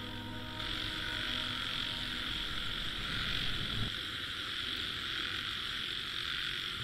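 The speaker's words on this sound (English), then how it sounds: "We saw the burrowing frog. They were all calling by the side of the pond." A dense chorus of burrowing frogs calling together by a pond, a continuous buzzing croak with a low hum underneath, steady and moderately loud throughout.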